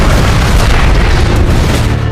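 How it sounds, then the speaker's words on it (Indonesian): A thunderous, deep rumbling boom meant as a trumpet blast sound effect roars loudly and continuously, dense and heavy with no voices. "Dentuman dahsyat terdengar membelah alam semesta."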